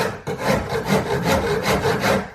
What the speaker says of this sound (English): I just use a basic rasp in the beginning